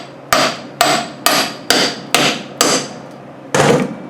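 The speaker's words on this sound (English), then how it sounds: "big hammer." Heavy hammer driving a wheel bearing and seal into a Land Rover Defender hub with a fitting tool: six evenly spaced loud metallic blows, then a short pause and a seventh strike, each ringing briefly, with no voices.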